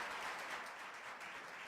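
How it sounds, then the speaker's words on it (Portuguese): A church congregation applauding during a celebration service, a dense, sustained wash of many hands clapping at moderate distance, steady throughout with no voices standing out. "Queria que a igreja aplaudisse a Deus pela vida da Ingrid."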